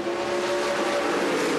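Whelen Modified race cars battle side by side at Martinsville, their engines a steady, sustained buzzing whine at moderate distance, droning continuously without pause.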